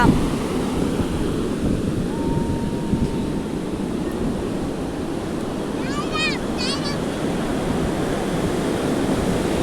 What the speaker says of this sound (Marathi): पुन्हा लाट आलेली आहे बघा